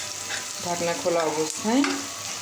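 Bitter gourd (karela) fries in an open, uncovered pan, giving a steady sizzle that swells as the pieces are stirred, with some brief tonal squeaks over the frying.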